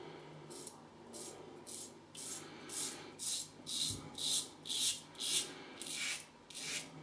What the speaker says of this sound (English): we'll get this shave going with the Black Standard razor with an Astro blade, second use on that blade